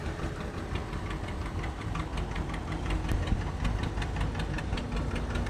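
A G1000 Vista diesel tractor engine runs steadily at a tractor parade, giving a continuous rough knocking idle with rapid regular pulses at moderate distance and no talk.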